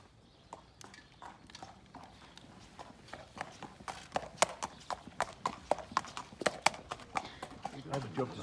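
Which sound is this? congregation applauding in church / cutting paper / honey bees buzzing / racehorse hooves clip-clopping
racehorse hooves clip-clopping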